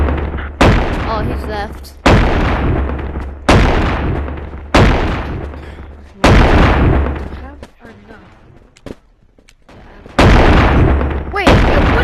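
Shotgun blasts in Animal Company with infinite ammo, loud booming shots spaced about every one and a half seconds, each ringing off before the next, with a quieter gap near the end and a voice speaking briefly between shots.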